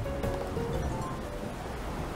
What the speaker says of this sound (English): It's still pouring it down outside.